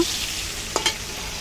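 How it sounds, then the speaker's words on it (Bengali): Pointed gourd (potol) fries in a pan with a continuous hiss, broken by two quick spatula scrapes close together near the middle. "এই তো হয়ে গেছে আমার পটল ভাজা"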